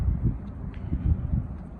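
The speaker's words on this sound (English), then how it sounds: "it's windy" Low, gusty wind rumbles against the microphone in uneven buffets, with no voices present.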